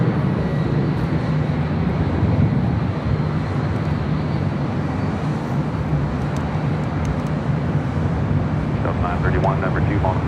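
A jet airliner landing on runway 24 Right at LAX, a steady loud roar of engine and rushing air lasting throughout, with traffic-like rumble and no pauses.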